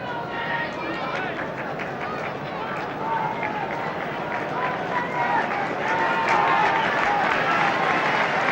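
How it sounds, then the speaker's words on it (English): Football crowd at a Manchester United versus Leicester City match applauding Denis Law as he goes off, a broad distant wash of clapping and stadium murmur that gradually swells. "And the applause is because Dennis Law is going off"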